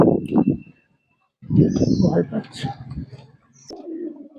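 Pet pigeons, Chinese Teddy and Pakistani Tiger Dabla breeds, give low, throaty coos in short bursts close by, with someone talking over and between them.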